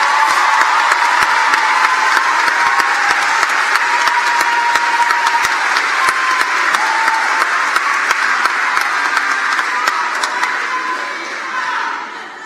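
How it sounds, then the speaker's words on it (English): Sustained crowd applause for an elementary school class at a completion ceremony, loud and even with many overlapping claps, tapering slightly near the end. "Let's give them a round of applause."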